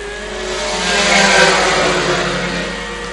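An Aprilia racing motorcycle in a Formula 3 class road race at Southern Downs, its engine screaming loud at high revs, swelling to a peak as it passes and then fading slightly.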